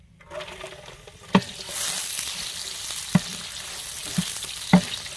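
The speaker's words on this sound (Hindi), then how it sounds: "और प्याज को सुनहरा होने तक भून लेंगे।" Onions fry in cooking oil for a goat gravy, a steady close sizzle with a few sharp utensil knocks against the pot scattered through it.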